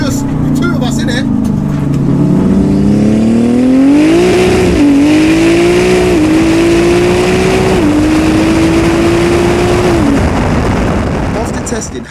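A 1400 bhp BMW launching from a standstill on a runway, its engine roaring loud and close as it climbs through the revs, with brief dips at each gear change and a strained, continuous howl.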